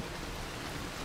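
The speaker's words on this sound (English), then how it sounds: "Only with our heads above water did we discover it was raining." Rain falls steadily over Lake Como, a soft, even broadband hiss that holds without a break from start to finish.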